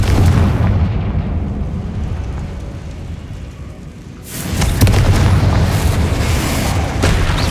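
Confringo blasting spell explosions in the video game Hogwarts Legacy: a loud, rumbling boom that fades, then a second sharp burst about midway that rolls on as heavy crackling roar, with no talk.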